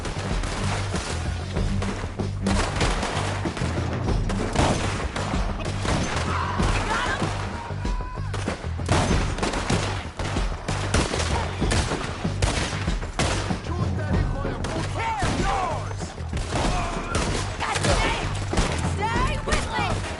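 Heavy gunfire rattles through a Red Dead Redemption 2 shootout, a continuous barrage of rifle and pistol shots with crashing impacts, loud and close, under shouted voices.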